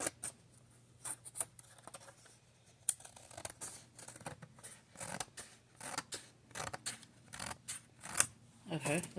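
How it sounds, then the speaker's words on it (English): Scissors snip through a paper planner insert being trimmed from classic size down to half letter size, a quick irregular series of close, crisp cuts and rustles. "I'm going to do it with scissors"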